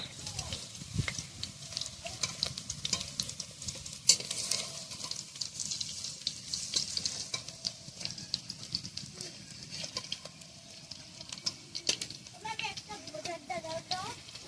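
Food fries in a pan over a wood-fired clay stove, a constant faint sizzle and crackle running underneath people chatting.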